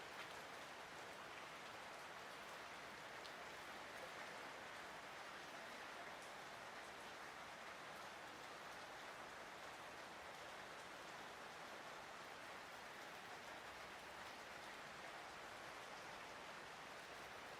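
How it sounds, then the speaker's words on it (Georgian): Steady rain falls outside, a soft, even hiss that stays constant and fairly quiet throughout with no voices. "როგორ საოცრად წვიმს"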